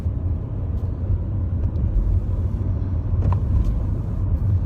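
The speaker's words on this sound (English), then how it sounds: "We'll go for a little drive just to see how it is." A 2008–2010 VW Routan minivan with a 4.0 litre engine out on a drive, heard as a steady, loud low road-and-engine rumble with no speech.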